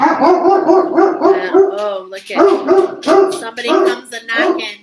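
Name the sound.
dog barking in the background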